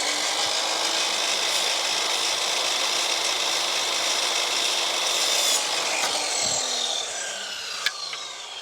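A power saw cuts steadily through a cedar cladding board for a garden room, a close, continuous rasping whine that eases off near the end, with no talk.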